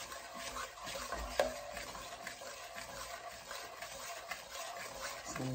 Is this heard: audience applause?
no